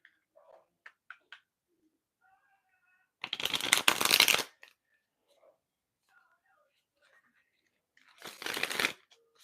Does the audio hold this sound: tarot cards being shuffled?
yes